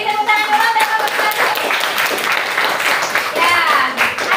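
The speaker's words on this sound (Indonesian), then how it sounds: "Beri tepuk tangan dulu untuk kelompok" A junior high classroom of students claps for a group that has just presented, a lively, uneven burst of many hands close by, with voices talking and calling out over the clapping.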